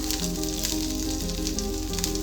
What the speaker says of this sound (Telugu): ఆయిల్ వేడిన తర్వాత ఆవాలు, జీలకర్ర, ఎండుమిర్చి, పచ్చిమిరపకాయలు,